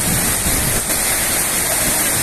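Water rushing along a flooded city street at a busy avenue intersection, a steady loud broadband roar filling the whole clip without pause.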